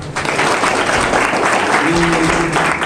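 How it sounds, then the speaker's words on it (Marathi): An audience at a junior college music performance event claps loudly and continuously, a dense wash of applause filling the whole moment with a faint tone sounding briefly in it. "सगळ्यासाठी एकदा टाळ्या वाजवा"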